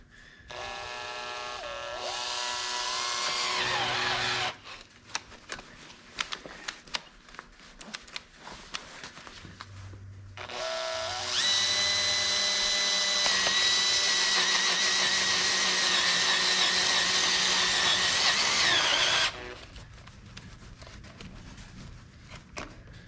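A power drill whines loudly in two long bursts reaming metal, with shrill squealing tones, separated by a quieter stretch of clicks and knocks.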